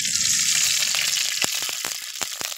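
Ingredients for a thuvaiyal, among them green chillies, onion, chana dal, garlic, curry leaves, tamarind and ginger, sauté in oil in a pan, giving a bright, dense sizzle with sharp spatters and stirring clicks that thin out toward the end.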